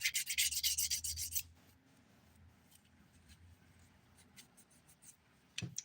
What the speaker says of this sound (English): I'm going to use the 180 grit side of this file